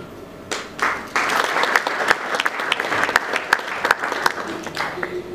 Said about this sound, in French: Nous allons les applaudir.